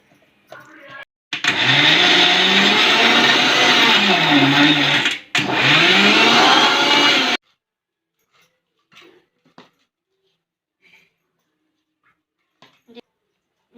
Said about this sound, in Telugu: చివరిగా ఇంకా కొత్తిమీర అయితే వేసుకొని మిక్సీకి అయితే స్మూత్గా గ్రైండ్ చేసుకోవాలండి